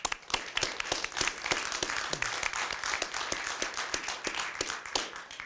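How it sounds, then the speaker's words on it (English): A small group applauds a judge at a county commission business meeting, a steady patter of individual claps, fairly close and moderately loud, without talk. "Please let's give him a round of applause."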